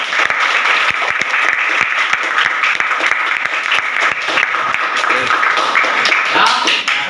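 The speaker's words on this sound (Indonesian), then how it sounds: "Sudah, kasih tepuk tangan dulu." A class of students applauds after a group's presentation on lunar eclipses in an Indonesian school lesson, dense steady clapping from many hands filling the room for several seconds.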